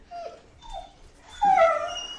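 A puppy whimpers in short high-pitched whines, two soft ones followed by a louder, longer whimper, close by in a quiet room.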